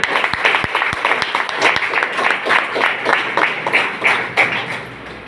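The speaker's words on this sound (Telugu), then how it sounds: "ఒకసారి గ్రాండ్ క్లాప్స్." Audience at a business meeting breaks into sustained applause, a dense wash of many hands clapping with a few sharper, louder claps near the front, steady throughout with no talk.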